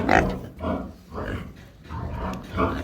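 Piglets grunt in short, repeated bursts, close by and moderately loud, with brief quiet gaps between the snuffling grunts.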